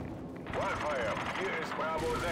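Gunfire in Call of Duty 4 Modern Warfare: rapid bursts of shots crackle at moderate volume over a busy game soundscape, with a voice speaking in German alongside.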